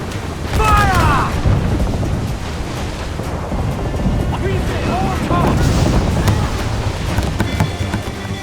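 Naval cannons fire in Assassin's Creed IV Black Flag, producing deep rolling booms over wind and sea noise, with shouted voices mixed into the battle.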